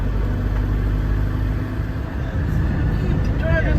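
A motorhome drives along a road near Plovdiv, Bulgaria, heard from inside the cab as a steady low engine and road rumble. A voice talks over it throughout.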